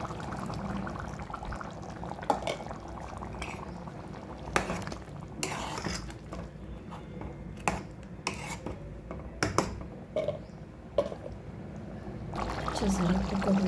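Water from rinsing a mixer jar is poured into a pan of chicken gravy made with yogurt, a short pouring splash mixed with sharp clinks of metal utensils and kitchen clatter.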